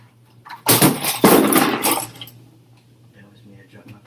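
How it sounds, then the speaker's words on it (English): A sudden clatter of small objects hitting the floor, a loud rattling burst lasting about a second before fading to quiet. "I dropped my pencils."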